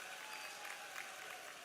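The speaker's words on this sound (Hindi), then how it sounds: "आपने ताली बजा के आनंद लिया है" A large crowd claps steadily and loudly at a rally in Madhya Pradesh, a dense, unbroken wash of applause sustained throughout without any talking.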